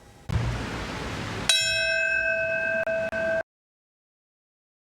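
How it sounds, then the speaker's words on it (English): A single bell tolls at the 9/11 memorial ceremony, one sharp struck note that rings on and fades slowly after a stretch of outdoor noise, then cuts off to silence. "a bell tolled to observe a moment of silence"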